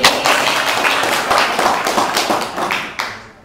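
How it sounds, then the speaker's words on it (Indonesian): Applause from an audience at a millennial volunteer gathering, many hands clapping in a dense, loud burst that holds steady for a few seconds before tapering off at the end. "Tepuk tangan dulu buat"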